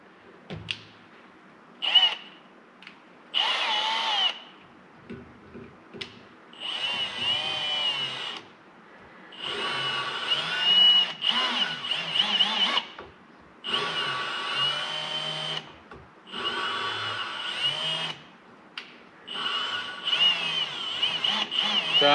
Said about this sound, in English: So I just took the drill to the end of the stem.